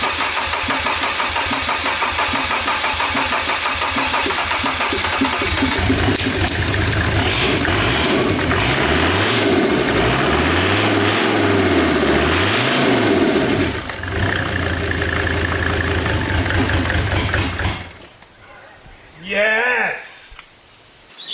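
A rebuilt Mercedes OM605 turbo diesel cranks, fires and settles into a loud, steady close-up idle that runs for most of the stretch, then people cheer and shout excitedly over the quieter running engine at the end.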